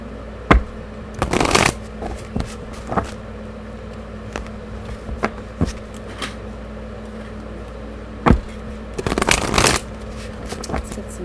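A deck of oracle cards is shuffled nearby in two brisk riffling bursts, separated by scattered soft taps and card handling over a quiet room hum.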